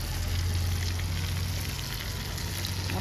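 Tandoori chicken frying in a kadai, a steady close sizzle and crackle of oil throughout with a low hum underneath and no talking.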